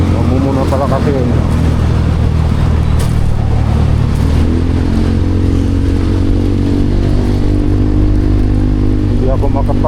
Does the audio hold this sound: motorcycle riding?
yes